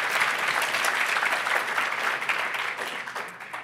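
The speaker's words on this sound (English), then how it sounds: "Big clap, everyone" Audience applause at a PyData London 2022 lightning talks conference session, a dense steady clapping that fills the room and continues throughout, tapering slightly near the end.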